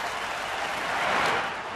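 Steady applause and cheering from a baseball stadium crowd during a St. Louis at Milwaukee game, a broad continuous roar at moderate distance that swells slightly toward the end.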